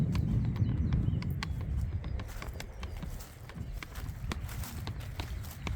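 Deer run off across the ground in Richmond Park, London, their hooves making a steady, fairly quiet patter of rapid thuds against a soft outdoor background.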